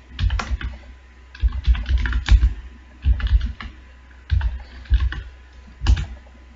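Fast, irregular typing of code on a computer keyboard in bursts of clattering keystrokes, close and fairly loud, with short pauses between runs and no talking.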